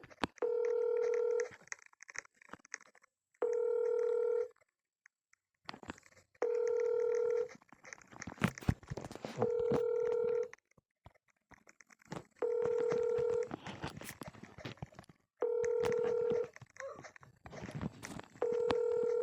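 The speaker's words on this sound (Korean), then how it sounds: "왜 전화를 안 받지?" A phone in a video game rings repeatedly and goes unanswered, with long evenly spaced tonal bursts roughly every two and a half seconds, loud and clear over faint background game noise, with no talk.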